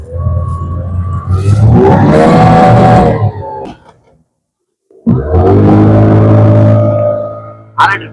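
Boat engine starting up for a mangrove boat ride near Pondicherry, a loud revving motor that cuts out briefly, then restarts and roars steadily before a short sharp burst at the end.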